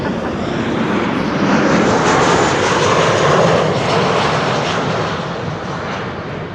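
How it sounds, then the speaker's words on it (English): A Suriname Airways jet airliner on flight 993 returns to Amsterdam Schiphol, its engines roaring loud and broadband throughout, swelling slightly midway and easing off toward the end. "This is Suriname, flight 993. It was supposed to be going to Paramaribo in Suriname, but it is returning to Schiphol"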